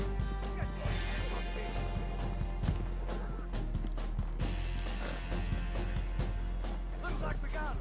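Horse hooves clip-clop in a western video game, steady rhythmic hoofbeats mixed with a busy soundscape of gunfire-like crashes and ambient noise, with a voice talking over it.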